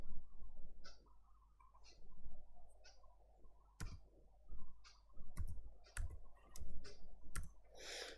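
Quick keyboard typing and sharp mouse clicks while an online registration form is filled in on a computer. The clicks come in irregular bursts, fairly quiet and close, with no talking.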